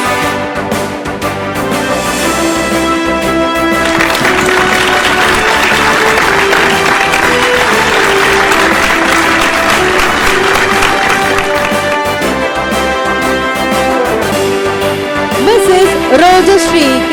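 Audience applause greets an award winner at a scientists' award ceremony, sustained and loud, with background music and faint voices woven through.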